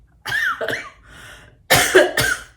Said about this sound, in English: this coughing is crazy tonight